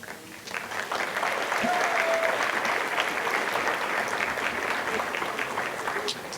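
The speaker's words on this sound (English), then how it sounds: "Give them another round of applause." An audience at a middle school promotion ceremony applauds in a steady, sustained round of many hands, even and full throughout, with faint voices mixed in.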